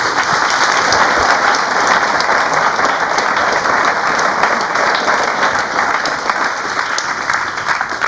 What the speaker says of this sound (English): I think a round of applause for our senior tutor.